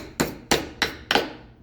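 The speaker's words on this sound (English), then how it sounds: "We're gonna try to hammer it in." Four sharp metallic hammer strikes in a steady rhythm, driving a 5/64 pin into a drilled hole in metal while forging a Cu Mai EDC piece, each blow ringing briefly and close.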